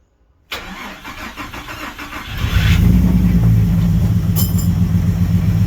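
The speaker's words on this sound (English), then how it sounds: "That is a massive misfire." An Ecotec car engine cranks briefly after a short silence, then catches and runs with a rough, uneven, misfiring idle that stays loud and near, with a couple of clanks and no talking.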